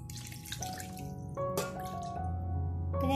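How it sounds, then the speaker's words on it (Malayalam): Water pours into milk powder in a pan while making Kolkata-style rasgulla, a steady trickling splash with faint dripping that runs for about three seconds, close and moderately loud. "അതായത് 1 ലിറ്റർ വെള്ളം ചേർക്കുക."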